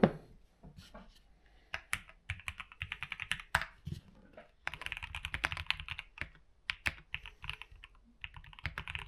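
Someone types emails on a computer keyboard: a quick, irregular patter of close, crisp key clicks with short pauses and a few louder strikes, with no talking.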